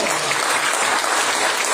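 Church congregation breaking into applause during a sermon, a brief, dense burst of many hands clapping, loud and uniform throughout.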